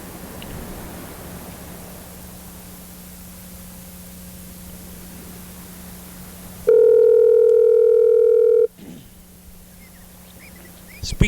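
A telephone tone sounds for about two seconds during call placement, a loud steady electronic hum that cuts off abruptly, over a low continuous hiss and faint background chirps, with a click at the end.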